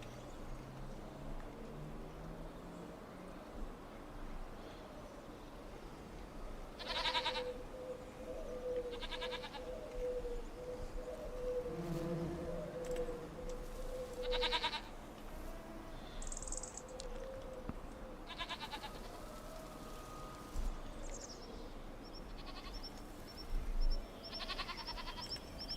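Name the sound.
goats bleating in video game Farming Simulator 25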